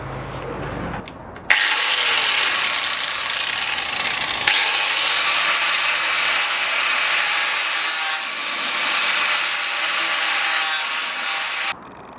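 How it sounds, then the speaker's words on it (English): Sandpaper rubs by hand across the underside of a 16V Mk2 Golf, a loud, continuous close-up scraping that runs steadily for several seconds without speech. "So give this a bit of a sand"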